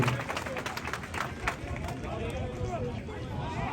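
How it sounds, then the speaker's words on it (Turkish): A crowd applauds at a bull wrestling event in Muğla, with dense, continuous clapping at the start that blends into loud crowd hubbub and voices. "Muhittin'le katil Bozo'ya hep beraber yapalım bu kuvvetli alkışlar."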